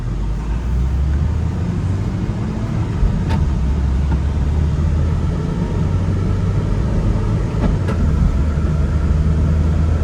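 Car cruising steadily down a road, a continuous low rumble of engine and tire noise with no talk and a couple of faint clicks.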